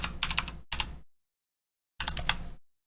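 Keys pressed on a computer keyboard in two short bursts of quick, close clicks separated by a second of silence.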